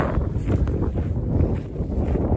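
Steady, broadband wind roar buffeting the microphone on a hilltop at sunrise during a mule deer hunt, no one talking, constant gusty rumble throughout.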